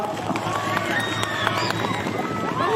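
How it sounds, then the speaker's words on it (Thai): Dense crowd noise at a school cheerleading and cheer-stand competition, with clapping, shouts and whistle-like cheers blending into a loud, sustained wash. "ขอเสียงปรบมือหน่อยครับ"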